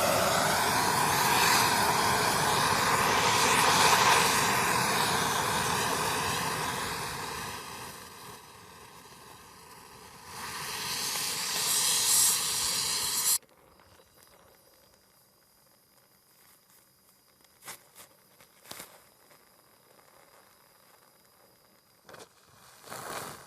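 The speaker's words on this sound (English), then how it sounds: "now I'm just going to weld it together" Arc welding a steel weld plate onto a 4-inch post while erecting a shop building from Cee purlins: a steady, loud crackling hiss runs for about thirteen seconds with a brief pause, then drops to faint scattered ticks and clatter.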